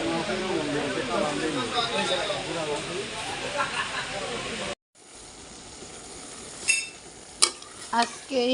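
A potato, eggplant and fish curry stirs and sizzles in a pan, a steady close hiss for several seconds, then a brief gap followed by quieter bubbling and a few clinks of a utensil against the pan.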